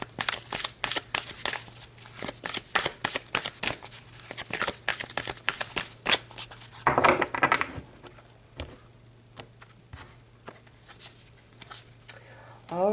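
Tarot cards being shuffled and handled at close range, a run of quick dry riffling clicks and slaps with a brief denser burst midway, then sparser taps, over a low steady hum.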